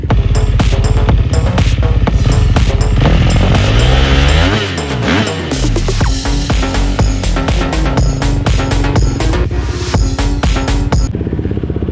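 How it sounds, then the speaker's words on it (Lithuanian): Motocross motorcycle engine warming up at a retro motocross event, loud and near, rhythmic throttle blips and revving with rising and falling pitch sweeps, then settling into a steady high idle before cutting off. "Mantelis jau šildo mocą."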